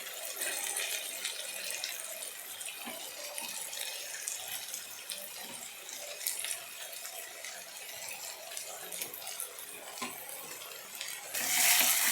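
Ground masala is stirred into softened tomatoes for brinjal gravy, a continuous soft sizzle with scraping and stirring in a pan, steady throughout and slightly louder near the end.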